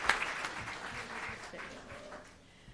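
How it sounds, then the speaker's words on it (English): Applause from an audience at a Puerto Rican flag ceremony, a faint, fairly distant patter of clapping that thins and fades toward the end. "Let's give them another round of applause, please."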